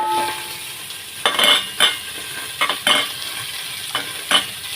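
Shahi jeera fries in oil for Telangana-style bagara rice, a steady sizzle under a handful of sharp spoon-scrape strokes against the pan, close up.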